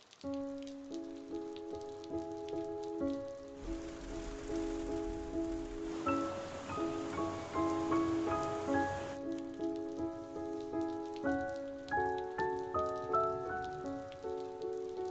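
Steady rain hisses for several seconds in the middle of the passage, layered over gentle piano music that plays throughout, fairly soft and even.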